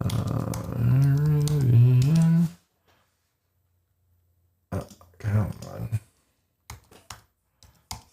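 Typing on a computer keyboard into the Interactive Brokers trading platform, searching for Rivian. A drawn-out vocal sound comes first, then after a pause short clustered bursts of close key taps and clicks.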